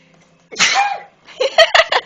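A person sneezes sharply and close, followed by a short burst of several quick, loud breathy snorts or laugh-like gasps.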